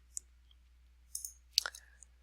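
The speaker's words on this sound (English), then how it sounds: "we're going to go ahead and click cell B3" Faint, sparse clicks of a computer mouse selecting a spreadsheet cell, a few brief isolated taps and a small cluster in near silence, no voices.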